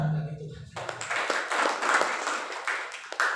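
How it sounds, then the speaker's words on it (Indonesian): Congregation applause in a church service, a dense wash of clapping swelling after a brief spoken lead-in and continuing steadily with scattered sharper claps. "Tepuk tangan bagi Tuhan"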